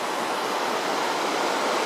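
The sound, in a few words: waterfall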